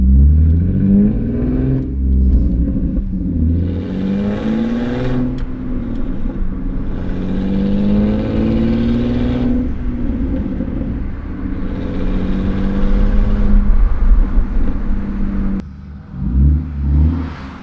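A Lexus IS300 with a straight-pipe muffler-delete exhaust revs repeatedly, giving loud, deep, rising growls that climb and fall in several bursts, close to the microphone, with a brief drop near the end before another rev.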